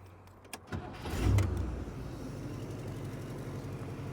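A few clicks, then a 1963 Cadillac engine with a performance coil cranks and catches, settling into a steady low idle close by.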